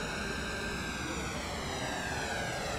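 M-346 jet trainer in Microsoft Flight Simulator taxiing with a steady, loud turbine whine and roar, the engine tone sweeping slightly in pitch as power is eased back toward idle.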